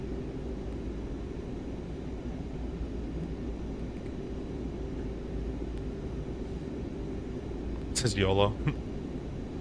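In Microsoft Flight Simulator 2024, an iniBuilds Airbus A330 taxis with a steady, droning engine hum, and a voice briefly speaks near the end.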